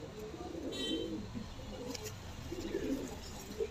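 Madrasi pigeons coo softly in a loft, low murmuring calls repeating at close range under faint background noise, with a few spoken words in the middle.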